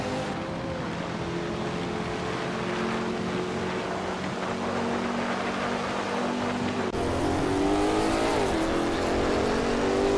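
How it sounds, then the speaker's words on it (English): A 1966 Ford GT40 MKI racing in a video game, its engine droning steadily under a continuous hum before a sharp jump in pitch and loudness midway as it revs and accelerates, with no talk. "Bot Beats with Kef is leading the race in a 1966 Ford GT40 MKI Data."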